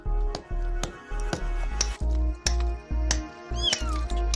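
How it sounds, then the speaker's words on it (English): Regular dull thumps repeat steadily, and near the end a kitten trapped inside a wall lets out one thin, rising meow. "I hear him meowing."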